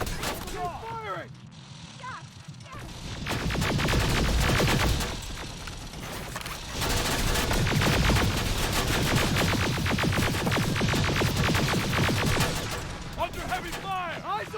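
Heavy gunfire fills a firefight in the video game Terminator Resistance, dense rapid bursts and booming shots continuing loud and almost unbroken, with occasional shouted voices and electronic chirps around them.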